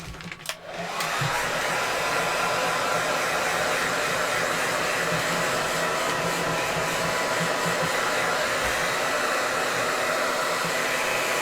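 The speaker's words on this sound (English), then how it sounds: "This is just a rare old blow dryer." An old hair dryer switches on and runs steadily with a loud, constant whooshing whine, close up and uninterrupted.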